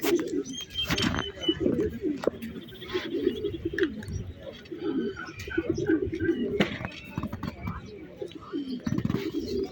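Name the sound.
pigeons cooing at pigeon fair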